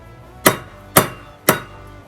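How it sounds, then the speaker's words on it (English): Three sharp, evenly spaced metallic whacks as a bricklayer's steel trowel is struck to knock off mortar, each crack close and loud with a brief ringing decay, no talking. "It's good to keep your trowel clean by whacking it"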